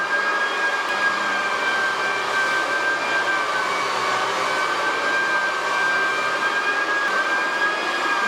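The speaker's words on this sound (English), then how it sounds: "But whatever's left over, we have to use the palm sander to remove." A palm sander working over a maple floor gives a steady, close whirring hum with a high whine that holds constant throughout, with no talk.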